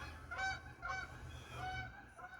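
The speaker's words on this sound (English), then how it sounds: "geese flew overhead" Geese honking as they fly over a garden, three faint, distant calls spaced about half a second apart that fade as the birds pass.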